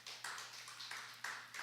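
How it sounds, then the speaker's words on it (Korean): A church congregation at a doctrine class gives a few scattered claps in brief bursts, faint and sparse, over a low steady hum. "박수 한번 합시다. 네, 박수 한번."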